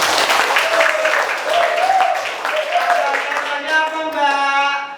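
A classroom of students claps together, a dense steady patter of hands lasting throughout, with high children's voices calling out over it.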